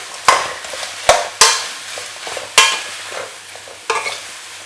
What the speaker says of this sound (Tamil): அப்புறம் நம்ம காளான் சேர்த்துக்கலாம், கேபேஜ் சேர்த்துக்கலாம்.